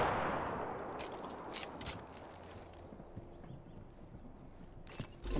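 Gunfire in Apex Legends: a few sharp shots crack out in a quick cluster, with another burst following after a quieter stretch, fairly faint over a low background rumble.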